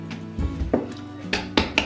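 A bowl of soft bread-roll dough is set down and covered in a kitchen, giving a few close, brief clunks and knocks of bowl and lid against the counter.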